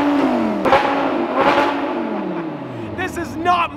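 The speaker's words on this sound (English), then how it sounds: "I came to this parking garage for no reason whatsoever, except to rev the GT" An Audi R8 GT engine revs inside a parking garage, giving a couple of sharp blips, then a falling drone as the revs drop, all echoing off the concrete, with a voice entering near the end.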